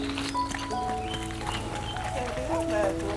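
A pair of bullocks walks home along a rural Konkan farm path after ploughing, their hooves clip-clopping steadily on the ground beneath continuous talking and background sounds.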